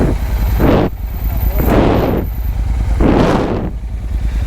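A Royal Enfield GT650 motorcycle fitted with an AEW exhaust and no dB killer, revved three times in loud, close blasts that each swell and drop back to a deep, rumbling idle.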